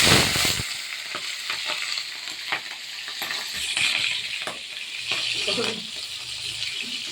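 Flat beans, spring onion and peas hit hot oil seasoned with nigella seeds and dried chilli, setting off a loud, dense sizzle and crackle with stirring scrapes throughout. A voice speaks faintly under the frying.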